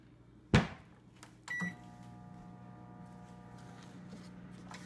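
Butter being warmed in a microwave oven for Czech dinner rolls: a sharp knock, a door clunk and a beep, then a steady low hum from the running oven, fairly quiet and with no talking.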